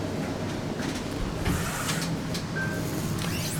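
Mitsubishi DOAS traction elevator in a high-rise car climbing steadily, a low continuous hum and faint mechanical whir with a brief soft chime partway through, steady and even throughout.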